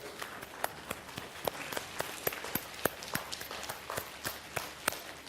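A lecture hall audience gives a gentle, quiet round of applause, with soft scattered claps that carry an uneven, loose rhythm and stay fairly faint throughout.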